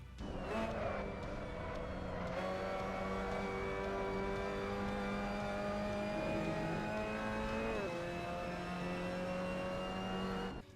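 A Mazda MX-5 Cup race car in the Assetto Corsa racing game accelerating uphill out of a corner at the Hungaroring, engine note rising steadily through the gears with brief shift dips, loud and continuous throughout.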